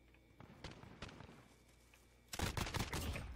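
Gunfire in Modern Warfare Gun Game: scattered single shots crack at first, then a dense burst of rapid automatic fire erupts, loud and close.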